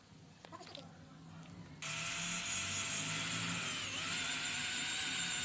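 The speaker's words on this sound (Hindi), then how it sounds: "तो इस वर्मे से सिर्फ जो टाइल और पत्थर है उसको सुराख किया जाता है।" A drill with a water-cooled core bit bores a hole through tile, starting abruptly into a loud steady whining grind that holds continuously after a few light knocks.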